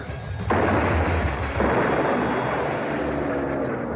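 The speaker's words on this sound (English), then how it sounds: "Great explosion." A cartoon explosion from the Spiral Zone animated series, heard as a loud, sustained rumbling blast with a roaring roll that persists for several seconds without any talking.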